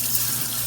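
Water runs steadily from a kitchen tap into a sink, a brief continuous hiss and splash, close and fairly loud, with no one speaking.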